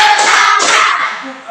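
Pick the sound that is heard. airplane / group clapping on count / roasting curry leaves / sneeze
group clapping on count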